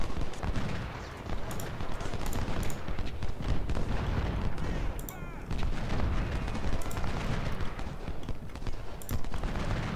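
Rifle gunfire in a video game crackles in dense, continuous volleys, loud and close, with repeated sharp shots layered over a rumbling battle background.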